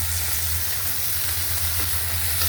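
Shrimp fry in hot oil with a loud, continuous sizzle close by. A steady low hum sits underneath.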